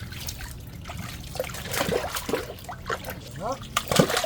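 A duck bathing in water beside a Tanjay City boulevard, with intermittent splashes and trickling dribbles close by and voices talking throughout.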